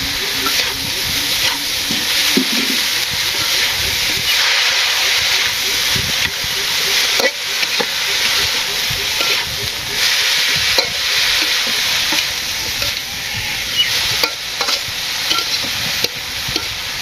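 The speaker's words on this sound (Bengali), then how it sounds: "হলুদ মরিচ একটু ভাজি ভাজি করছি, সবজি দিয়ে দিলাম" Turmeric, chili and vegetables fry in a pan in a village kitchen, giving a steady loud sizzle with stirring scrapes and occasional clinks throughout, and no voices over it.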